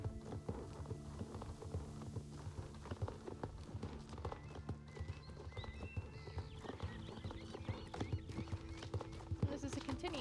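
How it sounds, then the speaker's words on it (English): Horses clip-clopping along a trail, hooves knocking in an uneven walking rhythm at moderate distance, with a whinny and people talking over it. "Love these stinking horses"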